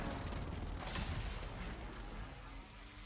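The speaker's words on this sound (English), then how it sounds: "Precision airstrike incoming." Precision airstrike explosions in a first-person shooter game rumble and boom as a dense, continuous roar, with a stronger burst near the start that fades slowly and stays loud throughout.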